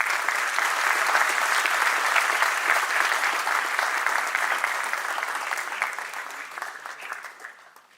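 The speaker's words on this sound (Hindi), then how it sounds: "तालियां बस इतनी सी।" Dense audience applause at a Maharashtra Chamber centenary celebration and headquarters inauguration, loud and continuous before thinning out and fading toward the end.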